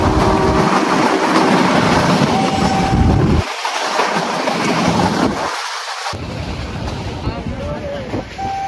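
Rumbling train noise heard from inside a moving carriage on a run from Una to Junagadh, loud and continuous, with rattling and clacking that shifts in tone over time.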